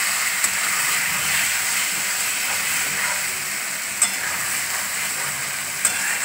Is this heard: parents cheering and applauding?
no